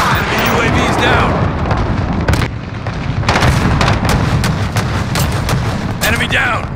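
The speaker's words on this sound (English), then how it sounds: "Enemy cruise missile incoming." Cruise missile explosions in a ground-war video game, with booming blasts and sharp gunfire cracks over a dense, loud battle roar, and radio-style game voices talking throughout.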